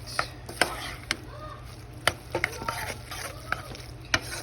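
A pot of mac and cheese being stirred gives soft scraping with scattered sharp taps and clicks of the spoon against the pot, fairly faint and steady, with no talking.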